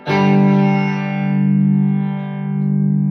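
A sustained guitar chord through a Blackstar Amped 2 rings out with a pulsing, wavering volume, a steady throb of tremolo as the note slowly fades.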